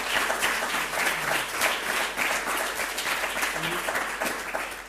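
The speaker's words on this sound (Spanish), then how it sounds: "que también merecen un aplauso" An audience at a science outreach evening applauds the technical crew, a steady, full burst of clapping from many hands that holds for several seconds before easing slightly.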